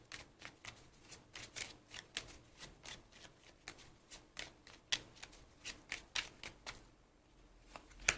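Tarot cards shuffled and handled by hand, a quick steady run of crisp flicking riffles that eases off near the end, close and fairly quiet, with no talking.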